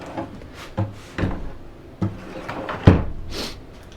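A homemade wooden kitchen drawer on metal slides in a school bus conversion is opened and closed several times, giving four distinct wooden knocks and sliding rumbles at close range, with no talking.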